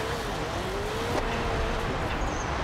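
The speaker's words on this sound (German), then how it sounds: "in der Cockpit-Sicht hören wir auch ab und zu mal den Turbolader pfeifen" A Ford Fiesta rally car with a turbocharged engine, driven in the racing game Forza Horizon 2 from the cockpit view, gives a loud, continuous engine drone with an occasional faint turbo whistle.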